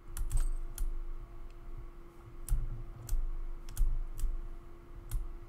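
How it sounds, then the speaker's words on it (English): Computer keyboard typing in bursts of sharp, irregular clicks, close and fairly quiet, with a steady electronic hum underneath and no one talking. "My keyboard."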